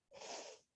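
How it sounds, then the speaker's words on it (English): A single short sneeze, close and fairly soft, a quick breathy burst lasting about half a second. "I'm about to sneeze."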